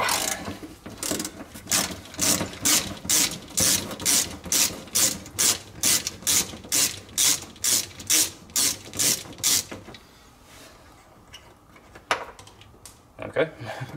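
Repeated ratchet clicks as a socket wrench undoes a nut on a Mini during restoration, about a dozen evenly spaced close bursts, then a quieter stretch with a few scattered knocks.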